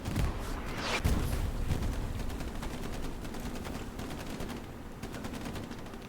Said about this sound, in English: Okay, big artillery shell.